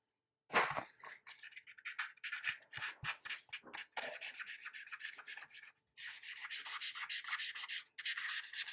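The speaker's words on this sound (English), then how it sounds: "I'm just going to kind of sand over this real lightly, fix any little imperfections" Sandpaper rubbed lightly over a primed quarter-scale Hellboy sculpture, a steady run of close, rhythmic scratchy strokes that continues almost without pause.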